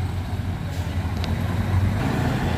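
A dump truck's engine rumbles steadily and close by as it pulls a damaged Nissan truck whose cab was crushed by an electric pole, a low continuous drone with a brief higher mechanical hiss partway through.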